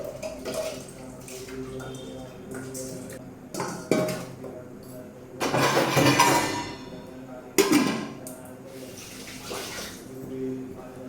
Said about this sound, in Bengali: চালটা তুলে দিই